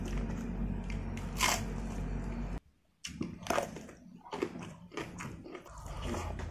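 Raw young corn is bitten and chewed close to the mic, with a steady stream of crisp crunching bites and wet chewing, briefly interrupted by a short silence, and no talk.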